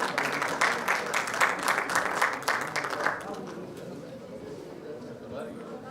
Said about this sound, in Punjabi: ਤੁਹਾਡੇ ਸਭ ਦੀਆਂ ਤਾਲੀਆਂ 'ਚ ਇਰਫਾਨ ਚੌਧਰੀ ਸਾਹਿਬ।